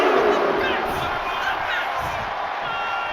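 An arena crowd in a WWE 2K25 wrestling match roars with loud sustained cheering and shouts, filling the whole stretch without a break.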